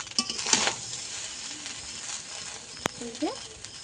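Pieces of hilsa fish drop into a pan of frying rice over lowered heat, giving a steady soft sizzle with a few clattering knocks and scrapes. A faint voice is heard in the background.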